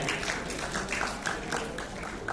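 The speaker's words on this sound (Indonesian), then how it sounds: "Oke, tepuk tangan buat si ibu dulu ya." An audience at a Prudential insurance gathering claps for a woman, giving fairly faint, evenly spaced rhythmic claps that blend into a soft roomy background.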